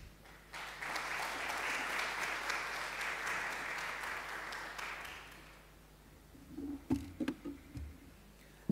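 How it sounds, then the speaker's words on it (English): An audience applauds the presenters at a Japan–Tanzania infrastructure dialogue event, with sustained moderate clapping for several seconds that dies away, followed by a few scattered knocks and thumps. "Let's clap for all the presenters."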